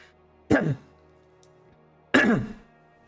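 Two separate harsh coughs, close by, about a second and a half apart, with quiet room tone between them.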